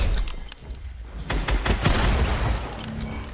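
Several loud gunshots crack close by in the Fortnite battle royale game, a short cluster of shots followed by a steadier noisy stretch.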